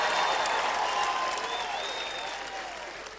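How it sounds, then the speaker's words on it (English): Sustained applause from a church or seminar audience, dense clapping throughout at steady loudness that slowly tapers toward the end, with a few faint voices mixed in. "Come on, ladies, clap for me just for a couple seconds here."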